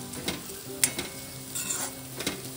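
Chopped onions frying in a pan for bread pakoda, a steady close sizzle with faint stirring scrapes and a few small clinks, no voices.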